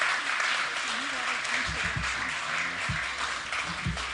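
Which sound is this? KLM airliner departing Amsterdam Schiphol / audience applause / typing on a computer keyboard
audience applause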